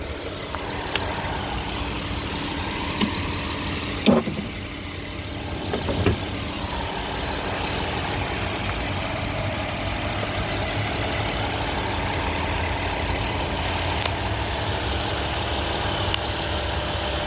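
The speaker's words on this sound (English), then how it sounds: "Now we'll get under the hood. I'm gonna listen to the engine." A 2010 Chrysler Town & Country minivan's 3.8L V6 idles quietly and steadily with the hood open, a low even hum. Two brief knocks or clanks break in partway through, and nobody speaks.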